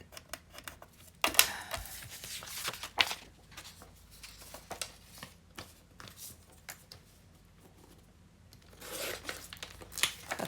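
A piece of paper being cut during a file folder craft project, faint crisp snips and rustles scattered over a quiet room, with a few sharper cuts early on and a louder rustle near the end.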